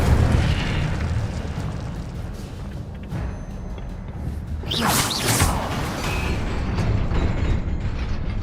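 Incendio fire spell bursting in Hogwarts Legacy, a loud whooshing blast of flame that swells around the middle and trails off into a roaring rumble over a dense game soundscape.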